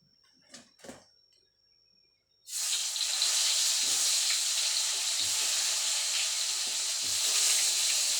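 Tempeh frying in a pan, a couple of faint clicks and taps, then a loud steady sizzle that starts abruptly and continues close up, with occasional low bumps beneath.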